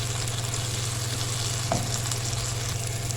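Spices with red chili powder and turmeric roast in a pan, giving a steady, even sizzle with one brief scrape partway through, close and moderate in level.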